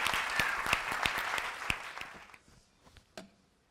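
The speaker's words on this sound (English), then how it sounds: "Round of applause" A crowd at a panel discussion in Tanzania claps loudly for a couple of seconds, then the applause thins out to a few scattered claps and fades.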